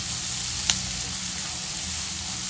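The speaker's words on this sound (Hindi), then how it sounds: "1 मीडियम साइज के ऑनियन को भी चॉप करके, मिक्स कर दूंगी फ्राई होने के लिए" Chopped onion and ginger fry in a pan with an even, close sizzle and one brief sharp tick partway through.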